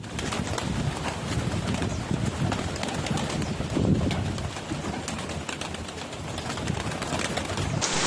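Pet pigeons coo near a loft just after rain, with soft wing flutters and shuffling over steady outdoor background noise, continuous throughout.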